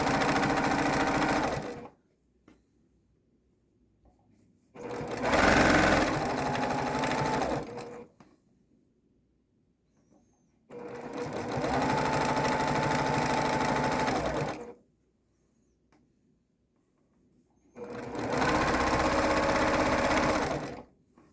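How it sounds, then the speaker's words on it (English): Sewing machine stitching fleece fabric for a pillow case, running in four steady bursts of a few seconds each, separated by quiet pauses, close and clear with no talking. "you can just go ahead and keep your edges lined up and sew"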